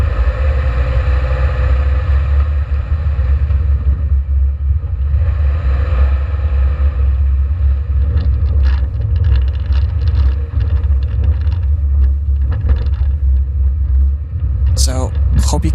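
A Subaru Crosstrek creeps slowly along a dirt trail, its engine and tyres producing a loud, constant low rumble close by, while people talk over it and a few sharp knocks sound near the end.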